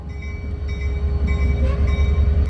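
Albany & Eastern Railroad locomotive 2501 idling after start-up at a lumber mill, a steady low diesel rumble with a faint tonal whine, close and continuous without talk.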